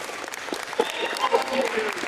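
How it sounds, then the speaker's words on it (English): A school audience of young people at a STEAM academy event gives a big round of applause, loud dense clapping mixed with cheering voices and shouts throughout. "Give yourselves a big round of applause."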